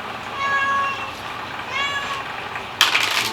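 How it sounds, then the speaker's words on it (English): A little cat meows twice nearby, drawn-out and tonal, while venison is butchered at home, followed by a sudden short clatter. "And we got a little kitty smells this delicious venison."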